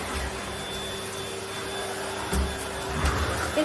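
A vacuum cleaner fitted with a rug tool runs steadily over carpet, a continuous close motor whine with faint tonal hum, plus a few brief louder bumps and scrapes as the head is pushed across the floor.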